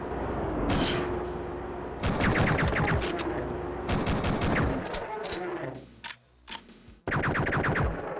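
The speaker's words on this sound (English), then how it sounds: "Do the gunshots not go through the grates?" Rapid gunfire in Duke Nukem 3D, bursts of loud automatic shots and blasts crackling in a space base, broken by short pauses and mechanical clanks, with a voice speaking over parts of it.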